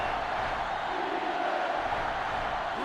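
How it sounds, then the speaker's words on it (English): Sellout stadium crowd in NCAA Football 08, a steady dense roar of many voices filling the background at moderate level, with no clear peaks and no distinct talk. "This sellout crowd is really making a difference now as these guys can't even call the play."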